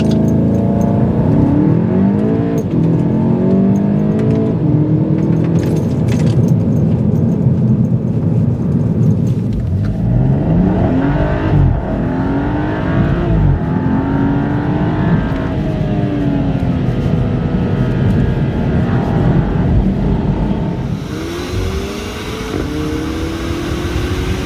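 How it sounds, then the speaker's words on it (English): A Volkswagen Golf GTI Mark 7 being driven, its engine note steady and continuous with rising and falling revs as it accelerates through gears, heard from inside the car over road noise. "let's see if the Golf drives better than the BMW"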